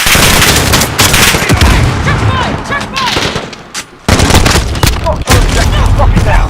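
Rapid gunfire rattles in the Modern Warfare video game: loud, close bursts of automatic fire with sharp single shots mixed in and a brief lull partway through.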